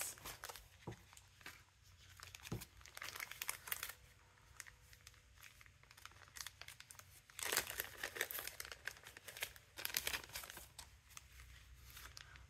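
Greeting cards, some of them vintage, handled and sorted, with paper crinkling and rustling in bursts over about twelve seconds, close up and fairly quiet.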